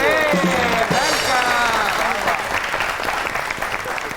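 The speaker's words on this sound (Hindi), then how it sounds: "आपकी बहुत सी तालियों में the one and only Maryam Noor." A studio audience on a comedy talk show claps warmly to welcome a guest, with sustained dense applause throughout and some excited voices and whistles mixed in early on.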